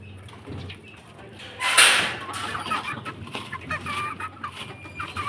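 Chicks being fed soaked, crushed dog food, soft clucks and chirps close by, with a louder flurry near the start followed by scattered peeps and scratching, a voice briefly present.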